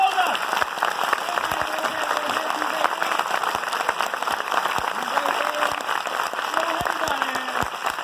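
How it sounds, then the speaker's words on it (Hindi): Audience applause at a motivational seminar in Nagpur, a broad, continuous wash of many hands clapping at an even level, with a voice speaking over it and scattered louder claps. "जोरदार तालियां आप सभी के लिए, जोरदार।"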